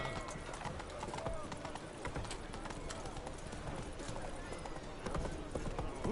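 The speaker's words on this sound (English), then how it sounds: "Run, Roach." Horse galloping in the video game Witcher 3: a rapid, steady clip-clop of hooves running continuously at moderate level, with game ambience and a voice speaking over it.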